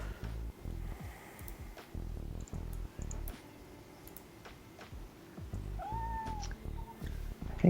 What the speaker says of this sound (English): And my cat's here.